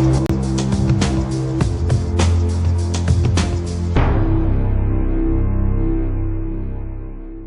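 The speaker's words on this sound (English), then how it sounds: "the air compressor." An air compressor runs loud and steady close by in a workshop, a dense mechanical drone with sharp clattering bursts during the first half, then settling into a smoother, fading hum.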